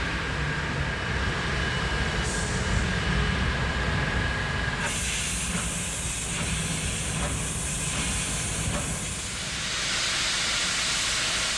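Norfolk & Western 611 steam locomotive letting off a steady loud hiss of steam, which swells as more steam vents partway through, with a low rumble beneath and no talk.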